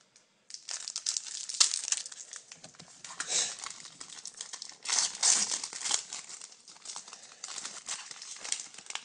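Crinkly plastic wrapper of a 2012 Press Pass FanFare racing trading card hobby pack being torn open and handled, close-up, with repeated crackling bursts and rustles throughout and no talking.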